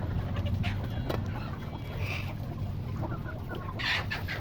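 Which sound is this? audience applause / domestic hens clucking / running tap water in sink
domestic hens clucking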